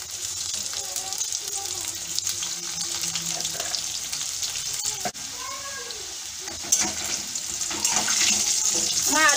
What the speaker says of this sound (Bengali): প্রথমে আলুটা ভাজব, তেলটা গরম হয়ে গেছে